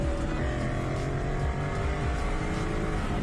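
Toyota 86 and a Mustang drag racing, with engines roaring steadily and turbo whine riding over the dense, continuous engine noise, loud and close throughout.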